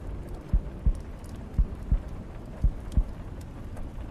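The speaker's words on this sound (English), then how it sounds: "he would wake to the sound of his own heartbeat" Heartbeat sound effect: a slow, steady lub-dub pulse repeating three times, deep and close, with low thumps over a quiet rumbling background.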